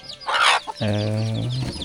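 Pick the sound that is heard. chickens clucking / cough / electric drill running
chickens clucking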